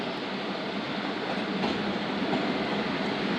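The Zakariya Express passenger train rolls along with a loud, continuous rumble of wheels and carriages, heard from onboard, with faint rhythmic rattling and no voices.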